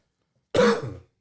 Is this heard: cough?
yes